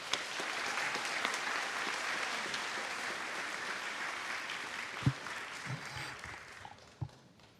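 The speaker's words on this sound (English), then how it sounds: "So let's give him a round of applause." Sustained applause from a commencement audience, a dense steady wash of clapping that thins and fades toward the end, with a few sharp louder claps near the close.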